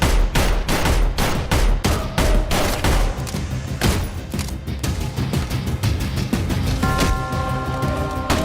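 Rapid volleys of gunshots in a Bollywood movie scene, dense sharp bangs repeating across the whole stretch, loud and close, with a brief tonal sound near the end.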